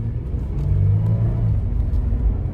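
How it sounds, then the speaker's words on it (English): A Toyota 4Runner engine accelerating at half throttle, a close, steady low rumble and whir that swells slightly as the vehicle gathers speed, with no talking. "when you have to get up to speed even at half throttle"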